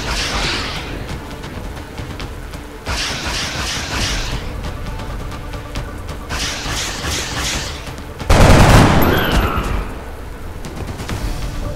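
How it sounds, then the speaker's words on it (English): Soldiers' gunfire in the strategy video game XCOM Enemy Unknown: dense, sustained volleys of shots and booms over a steady game soundtrack, ending in a louder burst near the end. "Weapons free. Get ready to fire."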